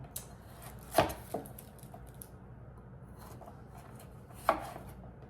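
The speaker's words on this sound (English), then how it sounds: "I'm gonna pull the seeds out and give this a chop up." Knife chopping squash on a cutting board, a few sharp isolated knocks spaced a second or more apart, close and clear over a quiet kitchen background.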